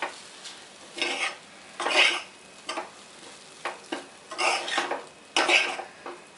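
Poha upma is stirred in a pan over a low flame, with a spoon scraping in repeated, evenly spaced strokes close by over a faint sizzle, and no voices.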